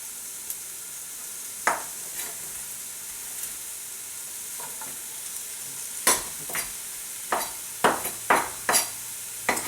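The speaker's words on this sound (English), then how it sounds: "the oil is pretty hot. I'm going to start dropping down my onions" Chopped onions sizzle in hot oil in a pan over medium to medium-high heat, a steady frying hiss broken by sharp scrapes and clinks of stirring that come more often toward the end.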